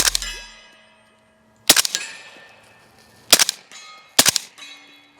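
Three sharp reports from a suppressed MP5 SD-style 9mm firearm, each a tight cluster of cracks with metallic clanging and ringing tails, spaced a second or two apart after a quiet opening.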